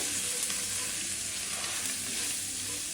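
Salt, turmeric and red chili powder frying in oil in a pan for mango chutney, giving a dense, continuous close sizzle with faint stirring and no talk.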